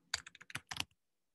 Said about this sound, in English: I could type my name in.